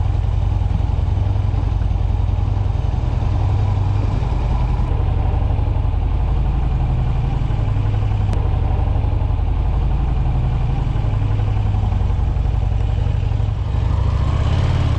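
A motorcycle engine idles steadily in a private hotel parking lot, a constant low rumble with mechanical clatter that stays loud and close throughout, with no talking.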